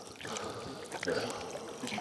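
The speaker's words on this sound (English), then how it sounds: "I'm not just dumping the water." Water pours and trickles steadily into a short gutter downpipe at low volume, a soft continuous splashing stream with faint background noise.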